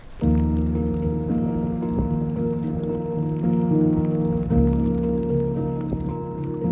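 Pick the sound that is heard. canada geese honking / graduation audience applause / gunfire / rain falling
rain falling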